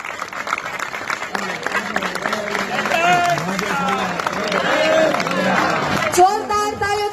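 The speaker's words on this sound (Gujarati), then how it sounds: "આપણે તાળીઓનો અવાજ ઓછો ન થવો જોઈએ" Audience applause and crowd noise at a three-day village festival, a steady mass of clapping mixed with murmuring voices that swells toward the end, with a voice speaking over it.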